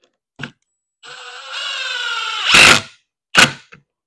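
A power drill drives screws into the recess of an end table kit. A click comes first, then the motor whines with rising pitch as the screw seats, followed by sharp knocks and a clack.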